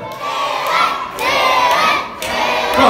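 A wrestling show crowd shouts and cheers in continuous loud waves, with children's high voices prominent among the din and brief dips between swells of noise.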